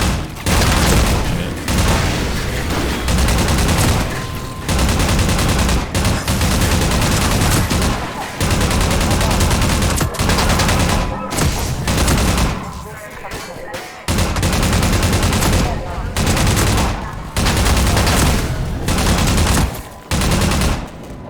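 A big mounted gun in Half-Life 2 fires long, loud, sustained bursts of rapid shots, broken by short gaps and a longer pause midway, with a player talking over it at times.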